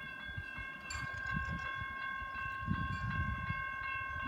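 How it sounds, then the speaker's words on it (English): A train rumbles past nearby with rolling low-frequency noise and intermittent clanks, while a steady electronic tone hums over it. "Here comes another train."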